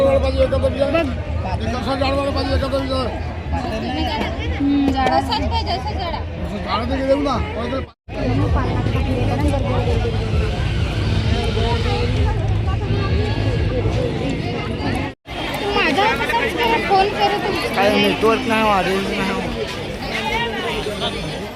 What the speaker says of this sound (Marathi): खूप अशी गर्दी आहे तुफान गर्दी होती चाललेली आहे